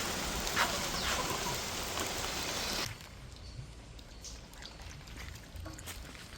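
Rain falls steadily as a dense, broadband hiss, loud for the first three seconds and then dropping to a softer, quieter patter for the rest.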